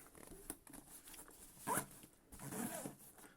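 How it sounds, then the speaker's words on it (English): A zipper is drawn around a headphone hard case in a few short, faint pulls, with a louder rasping stretch near the middle and another toward the end, recorded close in a quiet room with no talking. "see if I can zip it up"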